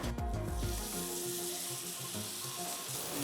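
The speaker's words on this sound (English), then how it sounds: "This is going down in the pan." A dry-aged pork chop sears in a hot pan with a loud, steady, close sizzle and crackle, and a few utensil clinks at the start.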